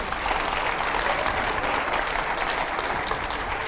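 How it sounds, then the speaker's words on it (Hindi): Steady studio audience applause at a TV interview fills the whole stretch, dense and continuous clapping at a constant level with no talking. "जोरदार तालियां हो जाए।"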